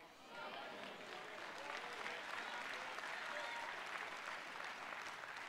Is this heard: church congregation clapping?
yes